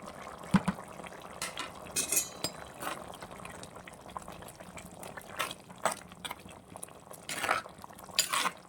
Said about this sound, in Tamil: எல்லாத்தையும் போட்டு நல்லா கிளறி விட்டுக்கணும்.